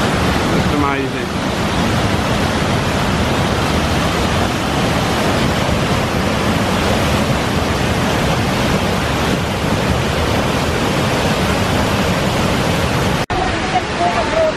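Taytay Falls waterfall roars with a dense, constant rush of falling water, loud and close, with a brief voice rising through it near the start.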